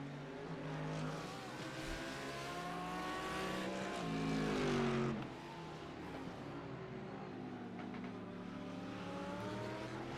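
GT3 race cars circle Sonoma in a sim racing game, several engines droning and shifting pitch together as they pass, steady and fairly loud with a brief swell midway, no talk over them.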